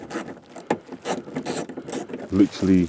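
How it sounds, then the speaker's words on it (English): A ratchet wrench undoes an 8mm bolt holding the rear diffuser on a BMW 118i, giving close, rapid mechanical clicks and rubbing with some low voice-like sound mixed in. "this 8mm bolt here comes off as well"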